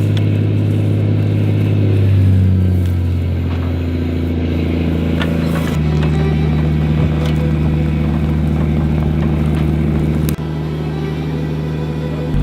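An old green tow truck's engine rumbles loudly and close, the pitch shifting as it revs and settles into a steady drone.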